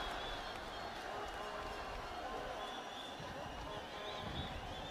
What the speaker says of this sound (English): I can hardly hear myself here in the commentary box because of the roaring crowd